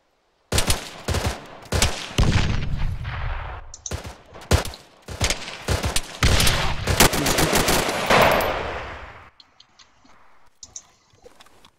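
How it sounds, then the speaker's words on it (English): Loud, close gunfire in the military shooter ArmA 3: repeated bursts and sustained automatic fire for about nine seconds, then sparse faint clicks and distant shots as it dies away. "Someone shooting at me."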